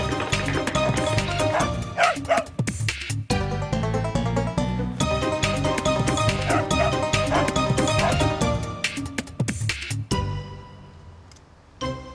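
A dog barks, yips and whimpers loudly in repeated bursts, mixed with a dense bed of other sound throughout.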